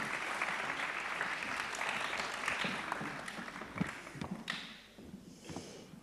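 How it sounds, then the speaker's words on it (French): Sustained audience applause at a French round-table discussion on the quest for zero risk, a dense steady patter of many hands that fades out toward the end. "on peut vous applaudir"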